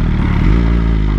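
BMW S1000RR motorcycle engine pulling away, a loud close low engine drone that swells briefly as the bike moves off.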